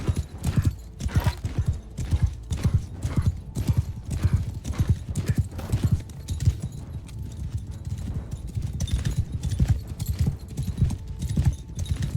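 Galloping horse hooves in the medieval battle game Mount & Blade 2: Bannerlord, a rapid, steady drumming of clip-clop beats with occasional whinnies over distant battle noise, continuous and close.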